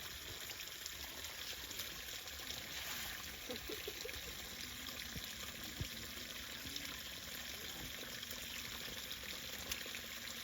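Water trickles and pours softly and continuously at a campsite while a child plays with mud, faint and close, with small splashes now and then.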